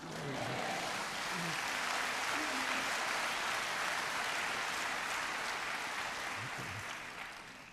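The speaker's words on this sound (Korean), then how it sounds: "박수는 조금씩 치고 간단히 치세요." Congregation applause at an evening worship service with a sermon, a broad, steady wash of clapping from a large room, moderately distant, swelling and then fading at the end.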